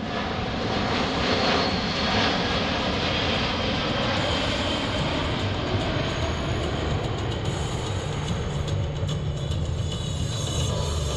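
Jet engines of a C-17 Globemaster at an airshow, a loud, steady, broadband roar that fills the whole stretch without letup.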